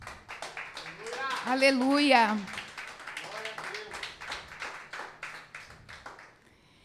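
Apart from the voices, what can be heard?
congregation applause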